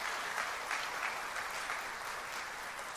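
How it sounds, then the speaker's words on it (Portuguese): A church congregation at a Sunday service applauds steadily, a dense wash of clapping from many hands that stays even for the whole stretch. "Vamos aplaudir ao Senhor pela vida deles."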